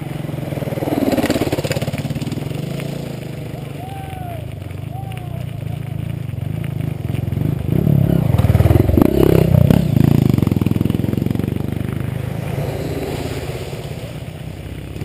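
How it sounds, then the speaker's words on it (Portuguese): A motorcycle engine rises to a loud, close pass around the middle, approaching fast on an open road during a group sport-bike ride on São Luís island, over constant wind and riding rumble while people talk. "A moto, porra, a moto aí, a moto que tá vindo voada, aberta aí, pô."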